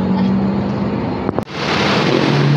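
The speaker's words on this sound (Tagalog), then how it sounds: "Jackliner Bus" A JAC Liner bus drives past on a road, its steady engine rumble and broad traffic noise filling the scene, with a brief drop at one moment before the loud roar resumes.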